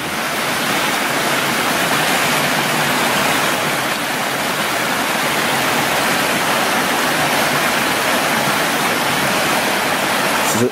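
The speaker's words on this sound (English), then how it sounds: "It's the water there. They said fresh. That's directly coming from the mountains" Fresh mountain stream in Japan, water rushing steadily over rocks near a makeshift bridge; a loud, continuous broadband roar that stays even throughout with no talking.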